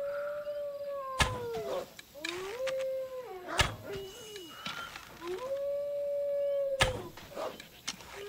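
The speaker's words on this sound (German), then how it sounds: "Also ihr Wölfe, ne? Seid ein bisschen nervig" Wolves in the video game Assassin's Creed Odyssey let out several long, wavering howls that rise and fall one after another, loud and close, broken by a few sharp clicks and thuds.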